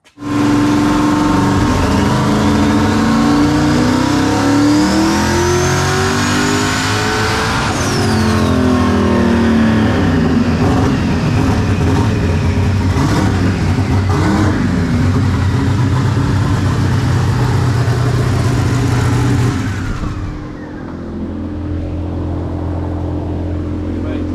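A 327 cubic inch street car engine revs hard on a dyno, a loud, sustained roar that climbs and sweeps in pitch for about twenty seconds before dropping back to a lower idle.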